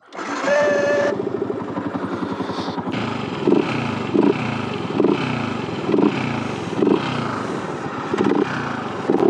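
An R15 motorcycle, about 7.5 to 8 years old, runs its engine close by: a steady buzzing idle that rises in a series of short, regular revving bursts, loud and alone.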